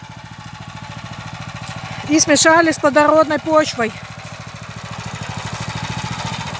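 A motor plough idles steadily nearby while digging potatoes in a garden, with a low, even pulsing putter throughout; someone speaks briefly over it in the middle.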